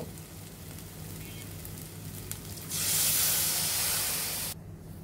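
Water poured into a pan of fried mustard paste with oil risen to the top, setting off a sudden loud hissing sizzle and steam burst that runs for nearly two seconds before cutting off, over a quieter kitchen hum.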